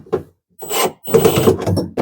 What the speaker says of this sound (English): We're going to turn this drill down so we don't over torque everything.